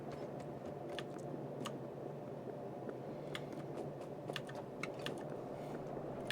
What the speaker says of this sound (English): You guys have been hearing the clickety-clack?